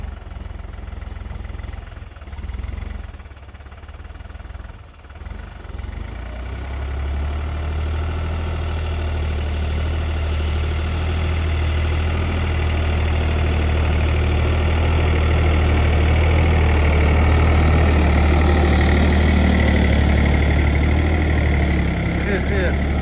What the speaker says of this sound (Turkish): Motorla oynuyorlar.